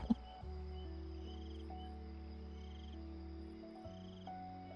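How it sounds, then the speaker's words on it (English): Night forest ambience from the game Spirit City: steady chirping crickets and insects layered with low droning tones, a calm, even soundscape at low volume with no talking. "This is the night forest ambient noise on Spirit City."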